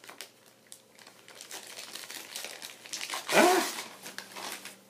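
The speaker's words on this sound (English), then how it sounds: "Hold on, we got some tape stickage." Tape being peeled off a Secret Santa gift package, a series of small crinkles and ticks building to one loud ripping tear near the end, close and alone.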